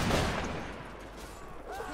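Gunfire at a mock battle event: a loud, close blast of shots at the start that decays into a rolling, noisy rumble, with faint distant reports continuing.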